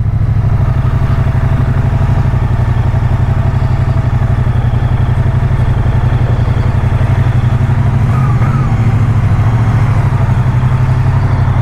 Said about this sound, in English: Ali čovječe, koji zvuk ima motor.